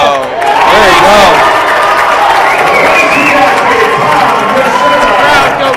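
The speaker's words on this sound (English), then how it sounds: "The crowd goes nuts." A crowd at a high school boys basketball senior night game cheers and screams loudly and without a break, with voices shouting over the roar.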